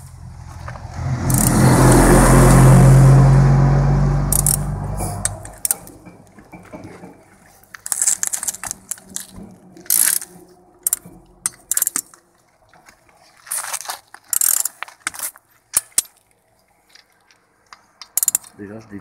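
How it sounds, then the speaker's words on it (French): Tools unscrew wheel bearing and steering parts on a car with a broken wheel bearing: a loud sustained mechanical rush at first, then a long run of sharp irregular ratcheting clicks and metallic taps, close by, with occasional speech. "Ce que je fais c'est que je dévisse tout."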